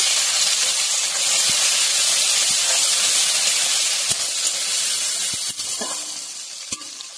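Chopped tomato fries in hot oil with black cumin, giving a steady, close, bright hiss that fades slightly toward the end, dotted with occasional sharp clicks from the pan.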